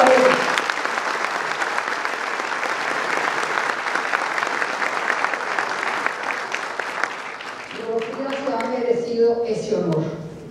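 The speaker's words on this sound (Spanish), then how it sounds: "un aplauso para ella." Audience at a school parents' assembly applauds loudly and steadily for about eight seconds, then the clapping thins out as a voice begins speaking over the fading applause.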